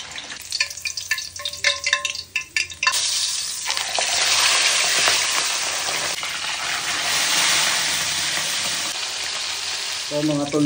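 Pompano fish frying in a pan for a Filipino meal, a loud steady sizzle with crackling and spattering that runs throughout, with some clatter near the start.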